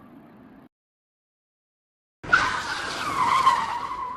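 A vehicle braking suddenly with a loud, sustained tire skid and squeal after a brief voice and a moment of silence, close and harsh.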